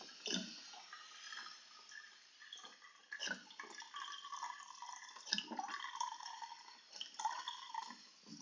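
Spring water poured while cooking bread and soup, a light irregular trickle and splash with bright dripping notes, quiet and close, no speech.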